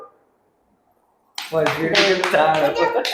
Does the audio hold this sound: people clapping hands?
yes